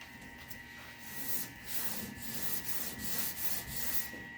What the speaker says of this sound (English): this is basically just a durablock with 400 grit.